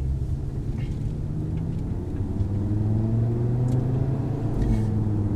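A 2018 Audi TT RS with its 2.5-liter five-cylinder engine, heard as a steady low rumble and hum with gently rising tone, like light acceleration while driving, moderately loud and continuous without talk.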